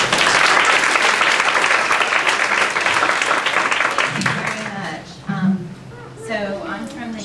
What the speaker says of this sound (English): All right, everybody, please give a round of applause.